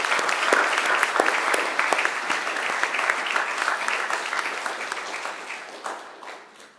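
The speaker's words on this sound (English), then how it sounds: "And I ask you to give them a round of applause as well." Graduation audience applauds the academic staff at a Macquarie University ceremony, a dense, steady wash of many hands clapping that holds strong, then slowly thins and fades toward the end.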